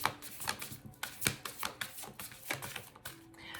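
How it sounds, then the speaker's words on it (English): Tarot cards are shuffled in quick, irregular bursts of crisp snapping and riffling taps, close to the microphone and fairly quiet, with no speech. "I usually don't have any trouble shuffling these cards"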